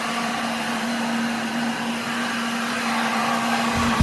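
Milwaukee heat gun blowing hot air onto vinyl seat upholstery from a 1970 Ford F-100, a continuous loud close roar with a steady hum throughout.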